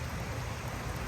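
Steady rain falling outdoors, an even hissing patter close by and fairly soft, with no voices.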